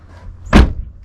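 A car door swings shut with a single solid slam and low thud, close and loud, after a quiet lead-in, on a car being repaired after a snowstorm.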